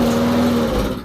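A small engine with carb cleaner in it is pull-started and fails to catch, giving a loud, brief, close whirring that fades out within about a second.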